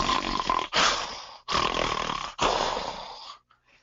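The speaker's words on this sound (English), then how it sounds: "this is the stertorous part, this is the snoring" Loud, rough stertorous snoring from a sleeping person, heard as four heavy rasping breaths in an irregular rhythm, each long snore separated by a brief pause, close and with no other sounds.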